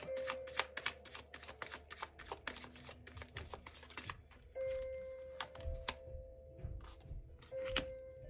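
Tarot and Lenormand oracle cards being shuffled, a rapid run of crisp, close riffling clicks and flutters that comes in bursts, with faint tonal hum between them.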